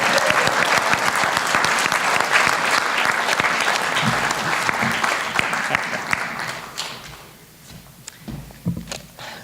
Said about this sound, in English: Let's have a round of applause for Glenn and Carol.